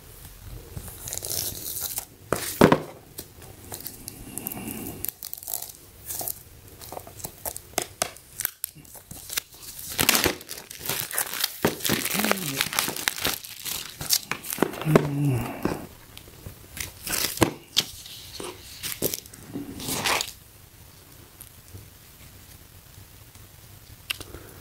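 Plastic packaging of a 120-piece brush lettering kit is torn and crinkled open in bursts of rustling and crackling, with quieter pauses between handling sounds.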